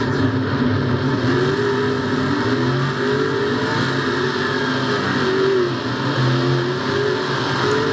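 Off-road race trucks roar around a dusty dirt track at over 60 miles per hour, loud engines revving and droning continuously with shifting pitch as they rise and fall, heard from close by without speech.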